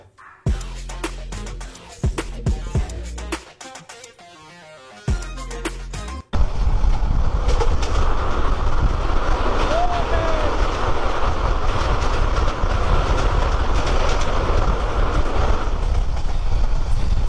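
A non-stop passenger train running toward Cox's Bazar, Bangladesh, heard from on board. A few seconds of choppy music and other sounds cut off abruptly, then a loud, continuous rumble and rattle of the moving carriages carries on to the end.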